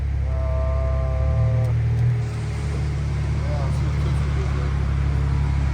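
A BMW F30 engine runs on a warm dyno, giving a steady low drone with a faint whine, while voices talk over it.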